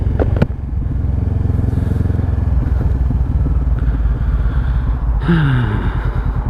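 Honda CBR500R motorcycle heard from the rider's seat while cruising, its twin-cylinder engine giving a loud, steady pulsing drone with wind rush, a sharp clack near the start and a rising rev near the end.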